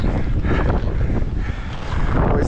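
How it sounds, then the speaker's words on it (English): Strong wind roars across the microphone high on a ski mountain at Aspen Highlands, Colorado, a steady, loud, buffeting rush with no voices. "the wind made it brutal today"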